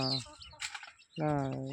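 Chickens, including a broody hen, cluck and chirp nearby in short, tonal bursts with brief gaps between calls while pecking at rice, close and clear.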